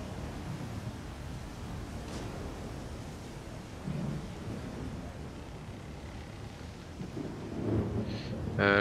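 Thunder rolls during a thunderstorm in the video game STALKER 2, low rumbles over a steady wash of rain and wind, swelling a few times and growing louder toward the end.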